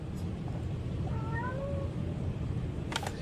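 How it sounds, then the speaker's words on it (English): A pet cat gives a couple of short, faint meows in a quiet room against a low background hum. "There's my cat Luna."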